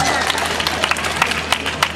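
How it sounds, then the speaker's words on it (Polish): Applause from a crowd at an outdoor Children's Day festival in honour of the performers, steady clapping with sharp individual claps over a background hum and murmur of people. "brawa dla występujących"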